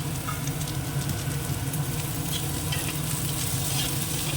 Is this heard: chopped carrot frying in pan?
yes